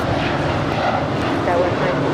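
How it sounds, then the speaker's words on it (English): An Air New Zealand Boeing 787-9 Dreamliner, about five years old and arriving from Auckland, is on final approach to the north side of Los Angeles International Airport. Its jet roar rumbles continuously for the whole moment. "Air New Zealand on final for the north side, flight 4 in from Auckland, that 5-year-old 787-9 Dreamliner."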